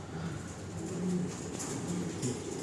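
Arabian-bred pigeons coo softly in low, repeated throaty phrases against a steady background hiss, several birds murmuring intermittently, close by and without speech.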